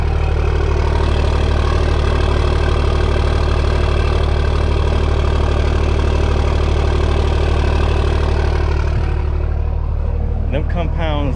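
A diesel truck with compound turbos and a second-gen swap manifold idles steadily, recorded close at the exhaust. The low, even rumble holds throughout, with a brief clatter near the end.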